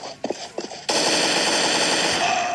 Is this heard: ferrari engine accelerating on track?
no